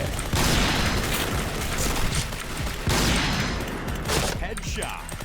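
A Honey Badger light machine gun fires in the shooter game Point Blank, with sustained rapid bursts of automatic gunfire that swell and break off in loud, clustered volleys.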